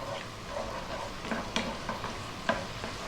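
Ginger and garlic sizzle steadily in a hot wok while a utensil stirs and scrapes, with occasional soft knocks over a constant frying hiss.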